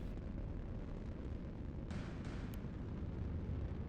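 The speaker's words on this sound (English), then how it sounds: "battleship taking lots of fire" Naval gunfire striking a battleship in the space game Nebulous Fleet Command, a steady low rumble of impacts with a couple of brief sharper bursts, fairly faint, with no voices.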